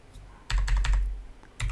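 Typing on a computer keyboard, two close bursts of quick clicking keystrokes separated by a short pause.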